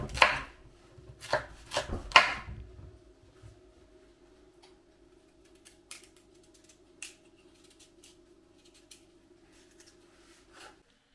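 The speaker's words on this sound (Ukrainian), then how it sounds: "І вже очищений гарбуз наріжемо на тоненькі дольки товщиною десь 2-3 мм" A knife cuts through peeled pumpkin into thin slices, a few sharp chopping knocks at the start, then sparse quieter taps against the board with a faint steady hum underneath and no talk.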